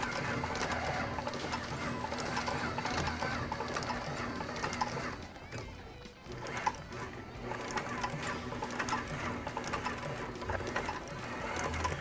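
A sewing machine stitches through the thick foam of a custom skate tendon guard, its rapid, steady chatter running almost nonstop at close range with a brief dip midway.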